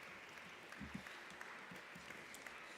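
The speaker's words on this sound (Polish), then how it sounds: "Round of applause for our volunteers." An audience at an educational session at the University of Warsaw applauds volunteers, a faint, steady patter of many hands clapping from a distance, with a few sharper claps standing out.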